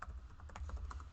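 Quick, irregular keystrokes clatter softly on a computer keyboard over a low background hum. The clicks are faint and close, and nobody speaks.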